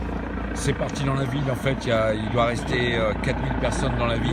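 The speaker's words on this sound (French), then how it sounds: "il y a des hélicoptères dans le ciel" A police helicopter flies overhead above a city street during police deployment, its steady engine and rotor drone continuous beneath someone talking in French.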